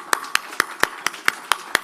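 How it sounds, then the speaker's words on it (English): Clapping at an audit committees' conference, eight crisp, evenly spaced hand claps in a steady rhythm of about four per second, close and distinct against a quiet room. "Give them a special thanks, a round of applause."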